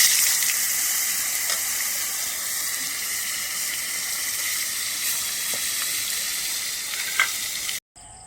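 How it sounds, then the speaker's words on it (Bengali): Fish sizzling and frying in a very hot kadai for a home-cooked meal, a steady, close, loud crackling hiss with small pops throughout, cutting off abruptly near the end, no talking. "কড়া গরম হয়ে গেছে, আমি মাখিয়ে নিয়ে মাছটা কিন্তু আমি এখন ভেজে"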